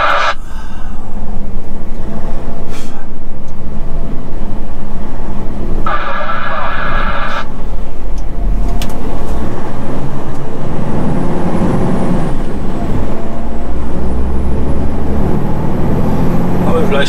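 A heavy vehicle engine drones loudly and steadily as it drives off, with a short hiss like an air brake and some creaks over constant mechanical rumble.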